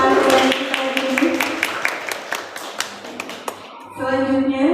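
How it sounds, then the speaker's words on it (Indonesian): A modest round of audience clapping follows a parenting talk by Muhammad Nofan Zulfahmi, distinct claps at a steady pace under a host's ongoing speech, fading before the voice continues alone. "Kita beri tepuk tangan yang meriah untuk pemaparan kita ini."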